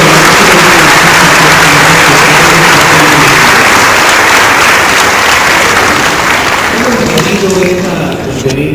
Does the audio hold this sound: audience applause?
yes